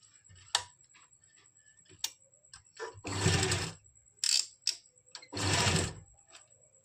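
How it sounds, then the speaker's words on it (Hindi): A sewing machine runs long basting stitches along a folded kameez in two short bursts of rapid whirring stitching, with scattered clicks and handling taps between them in a quiet room and no voices. "इसमें हम पूरे में बड़े टांके की सिलाई लगा देंगे"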